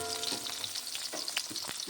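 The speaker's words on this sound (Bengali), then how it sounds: "আলুটা একটু লাল লাল করে ভেজে নিতে হবে" Potatoes frying in oil in a kadai until reddish, a steady bright sizzle with light scraping stir strokes, close and moderately quiet, no voices.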